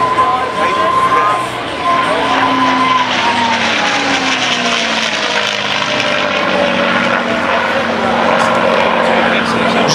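Propeller airplane performing at a village festival airshow in Buurse, its engine drone rising and falling as it passes overhead, loud and continuous with crowd noise underneath.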